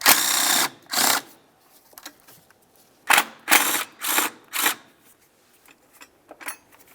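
A power tool whirs in short bursts, several separate runs, while two 10mm bolts are removed from the EGR bracket of a 2003-2011 Mercury Grand Marquis; loud and close, with quiet gaps between.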